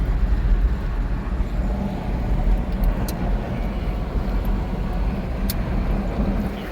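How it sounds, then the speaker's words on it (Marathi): Road traffic on a Konkan route is heard from inside a moving tempo van, a constant low rumble of engine and road noise with faint rattles, and no one speaking. "हे बघा आज ट्रॅफिक थोडंसं आहे गाड्यांचं."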